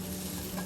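Fish cake stir-fries in a hot wok, a brief, close, continuous sizzle with stirring scrapes.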